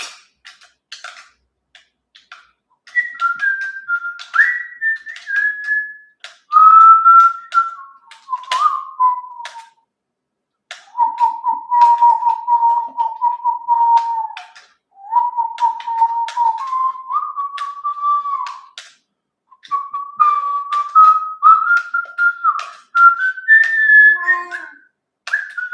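A person whistles a wandering melody in long, sustained phrases with brief pauses between them, close and clear against a quiet background.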